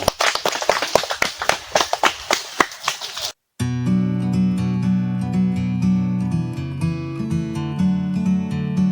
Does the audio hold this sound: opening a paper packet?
no